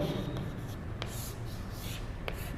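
Chalk or marker writing on a board during a trigonometry lesson: faint scratchy strokes and a few sharp taps against a steady background hiss, with no voice over them.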